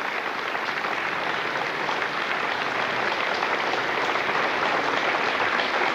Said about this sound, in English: the crowd very politely holding all applause until both satellites were separated